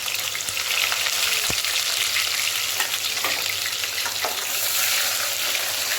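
Onions and green chilies fry in a pan with a loud, steady, close-up sizzle that holds throughout, with a few faint knocks of a utensil underneath.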